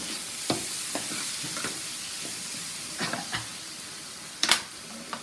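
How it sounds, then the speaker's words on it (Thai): Crispy fried red tilapia being stir-fried with seasonings and sugar in a pan, with a steady sizzling hiss and irregular scraping spatula strokes, one louder clatter near the end; no talking. "เสร็จแล้วผัดกันต่อเลยจ้า ผัดให้เครื่องปรุงนะจ๊ะ เข้าที่"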